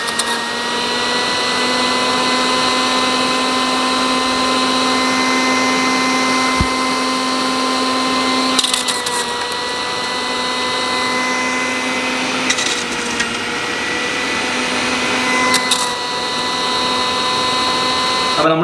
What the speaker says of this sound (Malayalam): അപ്പോൾ നമ്മൾ ചെയ്യാൻ പോകുന്നത് മിക്സി ഓൺ ചെയ്തു.